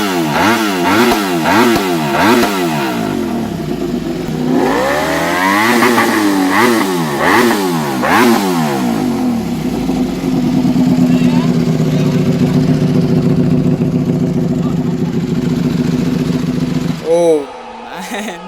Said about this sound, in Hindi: और अब सुनते हैं इस गाड़ी के एग्जॉस्ट साउंड को।